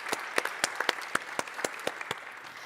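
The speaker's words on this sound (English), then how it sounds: "we can certainly give the gentleman a clap" A small audience at a market regulation roundtable session gives a speaker scattered applause, individual claps clearly audible in a brief, sparse round.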